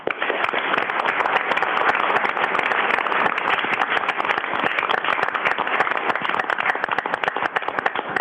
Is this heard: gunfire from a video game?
no